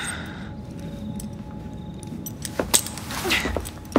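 Keys jingle as they are handed over in the street-level world of Assassin's Creed Syndicate, a short metallic clatter rising near the end over a steady background hum.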